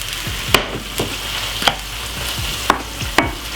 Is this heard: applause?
no